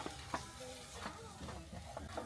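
Ground coriander, chili and turmeric stir-fried with salt in a pan for a chicken curry, a steady close sizzle broken by several soft scrapes of the spoon, alone without talk.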